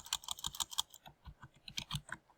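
Quick, close taps on a computer keyboard as a command is entered, a rapid cluster of clicks, a brief pause, then a few more keystrokes, with no one speaking.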